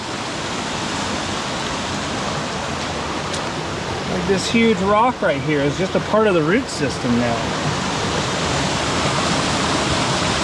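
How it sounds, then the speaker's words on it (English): A waterfall in a creek gives a steady, loud rushing roar throughout, with someone talking briefly over it midway. "Beautiful waterfall right here behind it."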